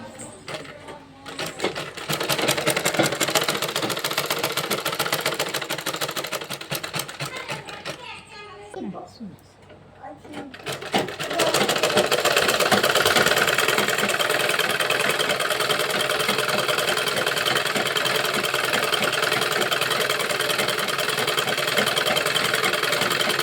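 Sewing machine running in a home setting, a rapid, continuous mechanical whirr of stitching that pauses briefly midway, during which someone speaks, then resumes steady and close.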